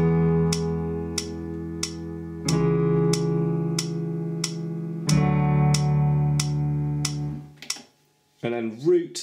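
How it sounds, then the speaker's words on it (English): Piano or keyboard chords for a song, each held for four beats, sustained tones with a repeating percussive click over them, ending in a brief spoken word. "static means that you're going to cycle the chords and you're going to hold those chords down for 4 beats each"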